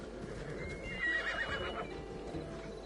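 A horse in Assassin's Creed Odyssey whinnies once in a clear, rising-and-falling neigh, with soft hoof clops and low ambient noise around it.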